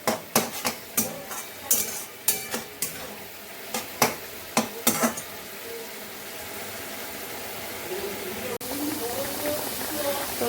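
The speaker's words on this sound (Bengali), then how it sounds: "এই যে মাছের ঝোলটা হচ্ছে, আর তার সঙ্গে এদিকে আবার বসিয়ে দিয়েছি মূলো শাক নিয়ে এসেছিলাম, সেই মূলো শাকটা রান্না করছে" Fish curry and radish greens cooking in pans hiss faintly in the background while a spoon knocks and scrapes against a pan in a quick series of sharp clinks, then the stirring stops and only low sizzling remains.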